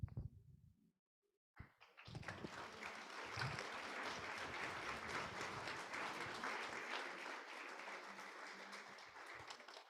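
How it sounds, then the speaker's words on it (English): Audience applause at an evening talk, opening with a few muffled knocks and a brief near-silence, then breaking into a sustained, fairly even round of clapping from a crowd. "let's give a round of applause again for Paul for being here tonight."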